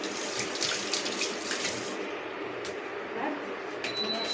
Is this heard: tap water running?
yes